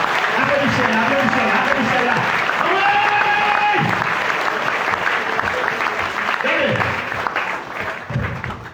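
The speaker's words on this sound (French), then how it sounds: "applaudissez mon Dieu maintenant pour ça" Worshippers at a Sunday praise service applaud loudly, a continuous roar of clapping that slowly thins toward the end, with voices calling out and speaking over it.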